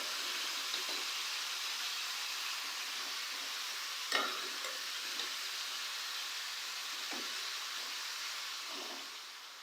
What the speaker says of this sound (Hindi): गोभी को अब हम लोग अच्छे से मिक्स करेंगे।